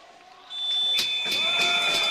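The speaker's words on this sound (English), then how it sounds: "And there goes the buzzer." An arena buzzer sounds a sustained loud tone ending the second period of a Norway vs Kazakhstan para ice hockey qualification game, over crowd noise.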